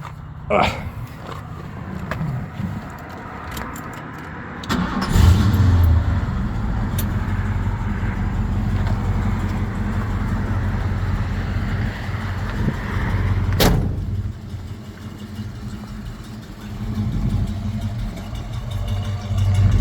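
A 1970 Ford Mustang Mach 1 with a 351 Cleveland four-barrel V8 cranks and catches, then settles into a deep, steady, rumbling idle close by, with a sharp rev blip partway through and brief clicks and knocks around it.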